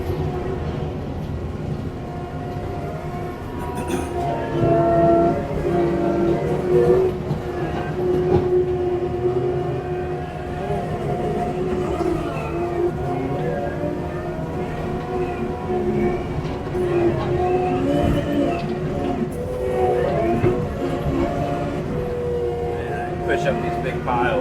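Steady, loud mechanical rumble and drone heard from inside a mulching machine, with shifting tones and rattles running continuously throughout.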